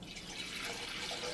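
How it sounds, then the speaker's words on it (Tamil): Water pours steadily into a clay pot on a stove for Tamil sweet pongal, a continuous close trickle and splash with no talk. "பானையை வச்சுட்டு தண்ணி சேர்த்துக்கலாம்."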